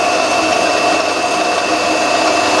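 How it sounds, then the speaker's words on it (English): Tool post grinder spinning on a mini lathe while grinding dead centers, a steady loud whine with a sustained high tone, constant and close throughout. "just got to turn on the lathe and turn on the tool post grinder"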